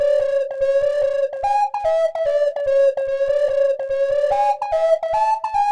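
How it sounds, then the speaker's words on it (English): Synth lead patch named Nimble Plant in a hip-hop beat, a bright whistly melody stepping between a few notes over short rhythmic hits, steady and moderately loud. "I played another lead here that's only present in that part. It's called Nimble Plant."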